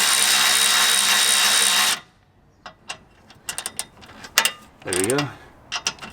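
A Milwaukee power ratchet whirs loudly and steadily for about two seconds while loosening bolts on a turbocharged Honda Integra DC5, followed by scattered metallic clicks and clanks of the tool and hardware, with a brief spoken remark.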